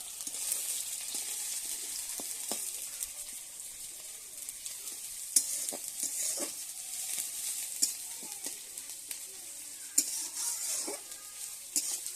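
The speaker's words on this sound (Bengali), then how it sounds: "তেলেতে এবারে দেব পেঁয়াজ কুচি" Chopped onion fries in oil in a wok for khichuri, giving a constant soft sizzle broken by occasional light scrapes and clinks of stirring, steady and fairly quiet throughout, with no voices.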